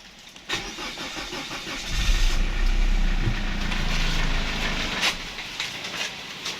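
A Mazda 2 SkyActiv engine cranks, catches and runs with a low rumble for a few seconds, then dies away after the car stalls.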